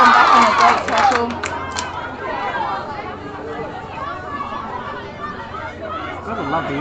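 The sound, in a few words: supporters cheering at netball match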